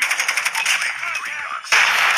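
Rapid bursts of automatic gunfire in a shooting video game, loud and close, with a brief gap before another sharp volley near the end.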